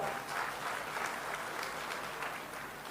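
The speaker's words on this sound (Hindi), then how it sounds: "जरा जोर से ताली तो बजाओ।" An audience at a farmers' agricultural campaign event in Puri claps steadily, a dense sustained applause from a crowd heard at moderate distance.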